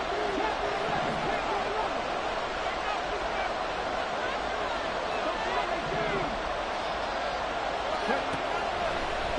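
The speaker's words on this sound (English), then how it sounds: "this crowd making it hard to hear" A dense, continuous roar of a large American football stadium crowd, loud and unbroken, with distant voices blending into the din.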